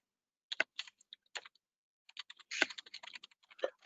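A computer keyboard clatters as credentials are typed, with close key presses in two bursts separated by a short pause.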